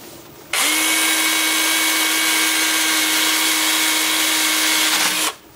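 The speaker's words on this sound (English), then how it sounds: "I'll show you how the 2-inch sanding disc is going to work" A 2-inch power sanding disc whirs steadily against wood on a lathe turning at 350 RPM, a loud continuous high whine starting abruptly and cutting off about five seconds later.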